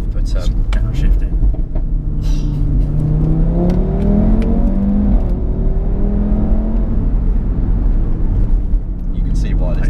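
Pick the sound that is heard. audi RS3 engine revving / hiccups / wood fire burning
audi RS3 engine revving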